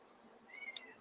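A house cat meows near a computer, a short faint rising call heard once against quiet room noise.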